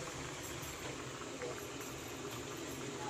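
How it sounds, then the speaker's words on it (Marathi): Pavta beans boil in a pot as a vegetable dish cooks, giving a faint, steady bubbling hiss that runs evenly throughout without any distinct pops. "या साईडला पावट्याला उकळा आला आहे मस्तपैकी"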